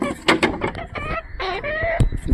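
Chickens cluck and squawk nearby in a coop, in short, irregular bursts, several birds calling over one another.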